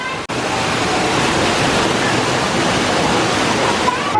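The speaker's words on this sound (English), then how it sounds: "check it out, the waterfall with the lighting and the fire" A theme park waterfall at a nighttime Halloween party, lit up alongside fire effects, pours with a loud, steady, close rushing roar that barely changes throughout.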